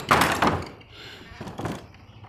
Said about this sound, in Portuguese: A porta se fechou, só vamos abrir.